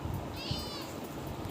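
A kitten gives a single short, high meow partway through, faint and half-buried under steady background noise and low rumbling.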